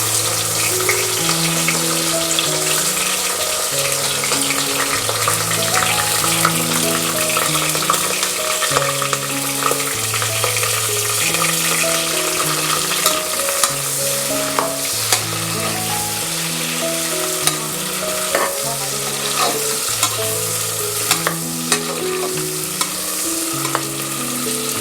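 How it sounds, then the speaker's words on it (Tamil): Onions frying in a pan for mutton biryani with fennel seeds, a steady loud sizzle with scraping stirring strokes repeating throughout, close and alone with no talk. "200 கிராம் வெங்காயம் போட்டுக்கலாம்."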